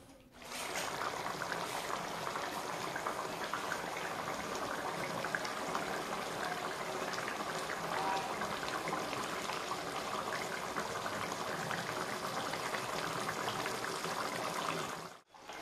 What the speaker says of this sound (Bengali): জল দিয়ে ঝোলটাকে ফুটতে দিতে হবে